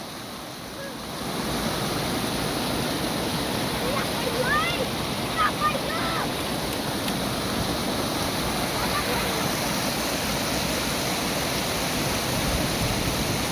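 Steady, broadband rush of water overflowing a small check dam, close and continuous throughout, with faint wind and a few brief voices in the background.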